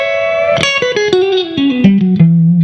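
An electric guitar plays a blues lick using the flat 5, a quick run of picked notes descending in pitch, bright, sustained and alone.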